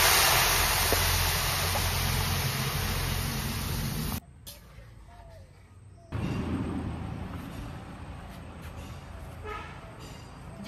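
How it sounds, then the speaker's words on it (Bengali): Hot water poured into a pot of fried basmati rice for pulao, a steady loud rushing pour that stops briefly and then resumes with hissing and bubbling. "তো এখন দিয়ে দেবো জলটা।"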